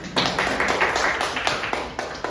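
A group of students in a classroom clap their hands: a short burst of close, uneven claps with distinct slaps, moderately loud.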